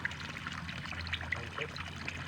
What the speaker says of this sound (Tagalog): Sudla na magtubig ang atong Basakan.